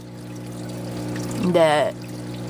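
Water pours down onto an aquarium filter pad with a steady trickling rush that swells briefly into a louder gurgling splash, over a constant low pump hum, with a voice speaking briefly.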